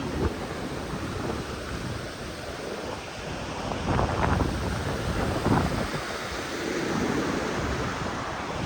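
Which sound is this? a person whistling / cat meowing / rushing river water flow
rushing river water flow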